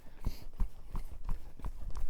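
A young colt's hooves trot in a steady, light two-beat rhythm on the ground during training, each footfall clear and evenly spaced with no voices over it.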